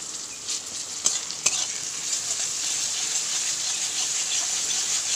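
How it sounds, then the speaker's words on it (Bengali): Chopped onion with crushed ginger and garlic fries in white cooking oil, making a steady, bright sizzle throughout. A couple of sharp clicks come near the start, and no one speaks. "কুচানো পেঁয়াজকে সাদা তেলের মধ্যে প্রথমে ভেজে নিয়েছি"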